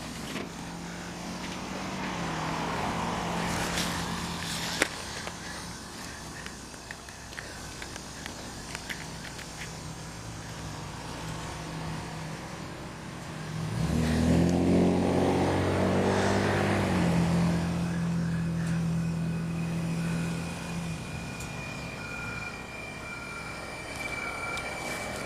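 A Camaro speeding past during a police chase in Richland County, swelling into a loud, close, revving rush that fades away, heard over a steady rumble of road noise with no talk.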